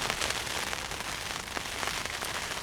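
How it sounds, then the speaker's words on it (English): Rain falling on a bivvy tent at a fishery, a steady, close hiss of drops drumming on the fabric, heard on its own without voices. "The rain's turned up."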